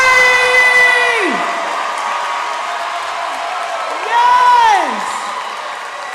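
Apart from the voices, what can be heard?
graduation crowd applause and cheering for the class of 2023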